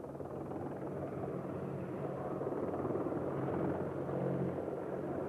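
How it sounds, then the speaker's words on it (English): An Apache helicopter accelerates backwards at an airshow, a loud, steady rotor roar and rumble sustained throughout with no pause, close and powerful. "Excellent performance finishes off with the pilot turning the Apache and accelerating backwards to 45 knots."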